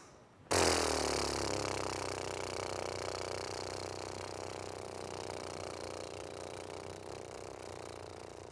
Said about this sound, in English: pucker your lips out and blow the air out so that your lips vibrate together